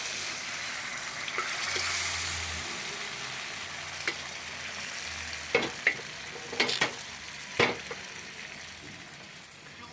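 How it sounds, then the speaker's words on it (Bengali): Dal hits fried masala in a hot pan, bringing a steady background sizzle and a string of sharp metallic scrapes and clanks from a ladle stirring midway. Nobody talks. "এবার ডালটা ঢেলে দিয়েছি"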